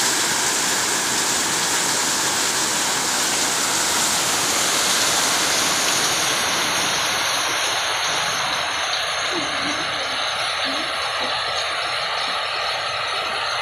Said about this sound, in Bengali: আর গাছের উপর পাতার উপর বৃষ্টিগুলো পড়ছে, সেখান থেকে ঝরে ঝরে পড়ছে